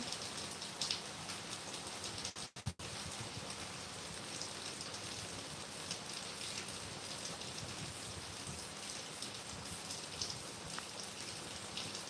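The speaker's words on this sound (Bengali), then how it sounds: "এত বৃষ্টি হচ্ছে" Heavy monsoon-season rain pours down in a dense, even hiss, with a brief dropout partway through.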